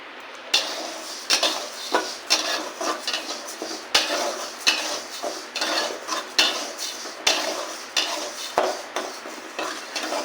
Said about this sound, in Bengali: এই ডালটাকে ভেজে নেব।